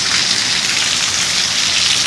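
Heavy rain pours down in a dense, continuous hiss, loud and close, with no voices and no break across the whole stretch.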